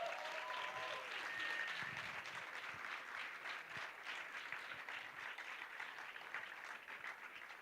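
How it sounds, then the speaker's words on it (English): Audience applause for performers at a Ganesha Puja evening program, a dense, steady wash of many hands clapping at moderate loudness throughout, with no talk over it. "one more round of applause for both of them"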